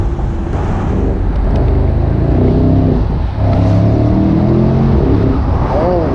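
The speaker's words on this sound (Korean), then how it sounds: "이렇게 다운 시프트 할 때 배기음 많이 나고" A Mercedes-AMG SL 63 4MATIC+ V8 convertible's deep, throaty exhaust roars loudly and steadily, rumbling up and down as the engine revs through downshifts.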